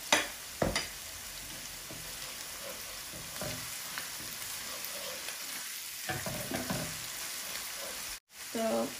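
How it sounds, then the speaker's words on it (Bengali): Onion and garlic with a little salt fry in a pan for a Bengali mustard hilsa dish, giving a quiet, steady sizzle broken by sharp scrapes and clinks of stirring. "বুনিয়া নিলাম আমার পেঁয়াজ আর রসুন"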